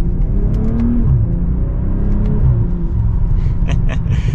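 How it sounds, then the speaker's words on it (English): A 2024 BMW M340i with the B58 engine and ZF 8-speed gearbox pulls away in sport plus mode, giving a steady low engine rumble and rising drone heard from inside the cabin, loud and continuous throughout. "setting off now in the M340i in sport mode, everything. We're in sport plus actually"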